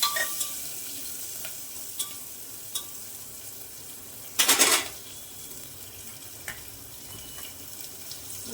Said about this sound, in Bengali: রসুনগুলো একটু ভেজে নেবো।